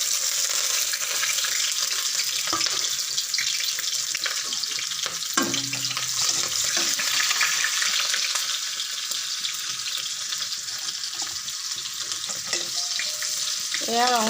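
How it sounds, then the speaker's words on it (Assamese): Chillies and onion hit hot oil and fry loudly, a dense steady sizzle running the whole time, with occasional stirring scrapes and clatter close by. "জলকীয়াখিনি তেলত দি দিম"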